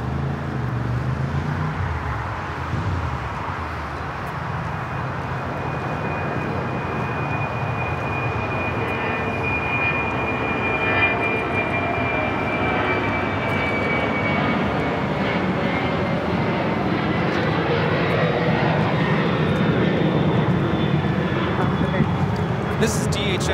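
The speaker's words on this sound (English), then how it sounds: "This is DHL, operated by ABX, Flight 410, taking off to Cincinnati." A DHL cargo jet operated by ABX takes off at LAX, its sustained engine roar carrying a rising whine that sweeps upward across the middle, with voices talking underneath.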